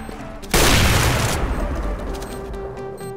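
A grenade blast in a tactical shooter video game erupts with a sudden loud boom, followed by a rumbling, crackling decay with scattered gunfire fading over the next couple of seconds.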